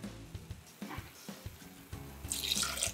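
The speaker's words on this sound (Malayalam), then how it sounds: "കുറച്ചുകൂടെ വെള്ളം ഒഴിച്ചു കൊടുക്കും." Water runs from a tap or is poured into a pot while Kerala-style beef curry is being cooked, an uneven splashing flow with soft knocks and clinks around it.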